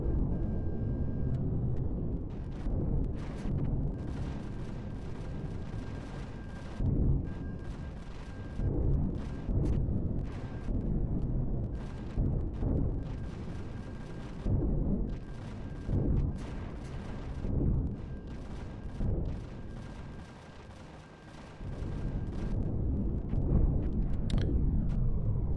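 Defense station turrets in Empyrion Galactic Survival fire on a spaceship, producing a continuous barrage of heavy booming shots and rumbling impacts that stays loud throughout with no speech.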